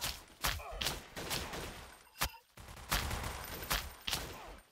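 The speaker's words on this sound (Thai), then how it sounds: "ผมขอใช้ลูกซองเลยอ่าผมยิงศัตรูเจอลูกซอง" Shotgun blasts in the first-person shooter game Blockade 3D, a string of loud sharp bursts a second or so apart, each with a short decaying tail.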